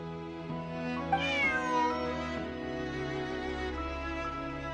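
A cat meows in the video game Genshin Impact, a single rising-and-falling meow over a steady layered musical background, fairly close and clear, with no talking.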